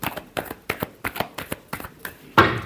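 Tarot cards are shuffled by hand in a series of quick, crisp riffling bursts, roughly a dozen close taps and flutters, ending in a louder final ruffle, with no talk.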